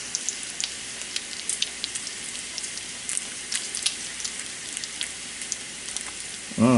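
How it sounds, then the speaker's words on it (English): Bacon sizzling in a hot pan, a steady dense crackle with scattered sharp pops throughout, close and continuous with no talking. "We'll get about 5 minutes of listening to a sizzle."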